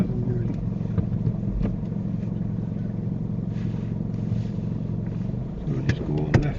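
A learner driver's car pulls away, its steady engine hum holding throughout under near-constant talk, with a slight rise near the end as it gets moving.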